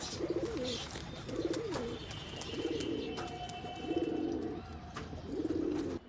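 Pet pigeons coo in a steady rhythm of about five soft rolling calls while feeding nearby, with faint background hum and thin tonal whines underneath.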